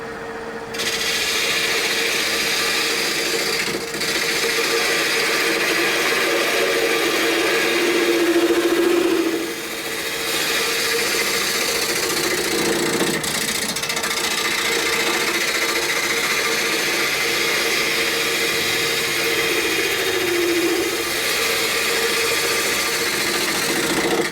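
A wood lathe spins a ficus vase blank with a steady, loud motor hum and a continuous rubbing, rasping tone that holds close and even, rising slightly in pitch partway through, with no talking.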